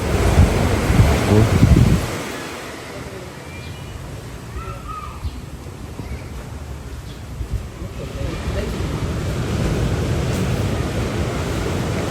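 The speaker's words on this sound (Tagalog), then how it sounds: "Lakas ng hampas ng alon." Strong surf crashes loudly on the shore at Jose Abad Santos, Davao Occidental, Philippines, at first, then a steady roar of waves and wind continues, with an occasional bird call in the distance.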